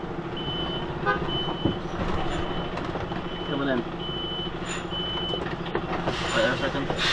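UK delivery truck reversing in a tight London street, its steady evenly spaced reversing beeps repeating under engine rumble and traffic noise, with someone speaking briefly.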